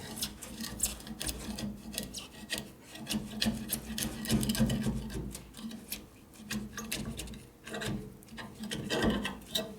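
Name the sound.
scraping with a gasket scraper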